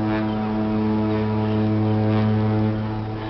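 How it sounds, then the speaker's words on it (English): A deep, sustained ship horn on the River Tyne blares loudly and steadily, a rich low droning tone that holds for several seconds without pause. "That is the sound of the ship warning the others to get out of the way."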